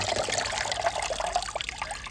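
Excess water trickles and drips out of a snake plant pot after soaking, a soft, close, continuous dribbling with small irregular splashes.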